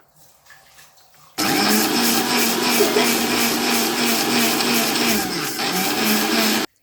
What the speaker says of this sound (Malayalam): വറുത്ത് വെച്ച അവിൽ ഇതുപോലെ മിക്സിയിലിട്ട് നല്ലപോലെ അരച്ചെടുക്കുക